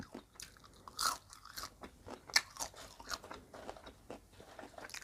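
A fried cockroach, shell and wings included, is crunched and chewed up close, with several sharp crisp bites and quieter chewing in between and no talk.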